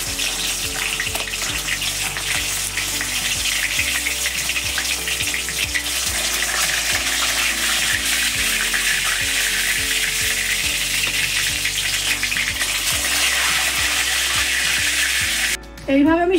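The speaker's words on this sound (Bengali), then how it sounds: "এইভাবে আমি সব মাছ ভেজে নেব।" Bhetki fish pieces frying in hot oil, with a continuous loud crackling sizzle and frequent soft utensil taps and scrapes over the whole stretch, which breaks off just before the end.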